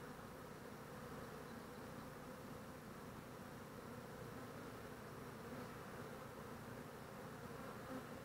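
Honey bees disturbed by a hive frame being shaken make a soft, continuous buzzing hum, faint and even throughout with no voices.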